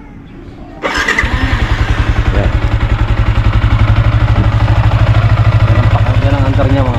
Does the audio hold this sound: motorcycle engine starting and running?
yes